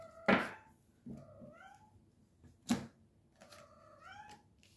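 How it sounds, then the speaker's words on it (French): A domestic cat meows several times indoors, a loud close call followed by softer, drawn-out meows, with quiet pauses between them and no talking. "J'ai mon chat qui parle."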